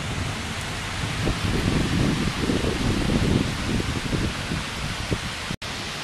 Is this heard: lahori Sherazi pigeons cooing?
no